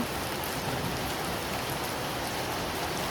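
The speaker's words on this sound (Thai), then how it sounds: "วันนี้ฝนตก ไหลลงจินหน้าต่าง" Steady rain patters against a window, a dense, even hiss of drops that stays constant throughout without any voices.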